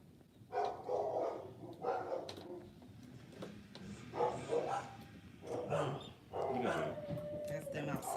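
Dogs bark outside in repeated bursts, moderately near, with several loud barking clusters spread across the span and brief pauses between.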